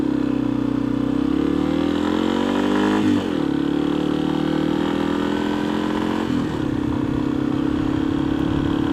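A 2015 Yamaha XT 250 single-cylinder motorcycle engine hums steadily while riding, pitch rising through the revs, dipping at a shift, then climbing again, loud and close with no talk.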